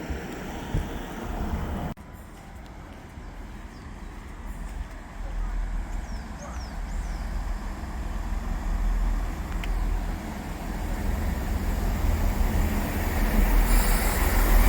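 A train runs on the Greenford branch railway line, a continuous low rumble with wind noise that builds steadily louder toward the end.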